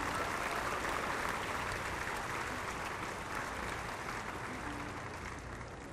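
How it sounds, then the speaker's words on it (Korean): A large audience at a ceremony applauds steadily, a dense wash of clapping that slowly eases in volume toward the end. "감사 박수 보내주시기 바랍니다"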